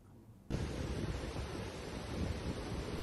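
Strong wind and big waves pound a beach at Kura-Kura, Bengkayang, West Kalimantan, as a dense, continuous rush of surf and gusting wind that starts abruptly and stays loud, with rumbling buffeting on the microphone.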